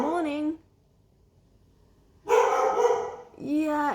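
A dog alone in its house barks in short, loud bursts, one yelp, a pause of silence, then a longer, harsher bark followed by another rising yelp, close to the microphone.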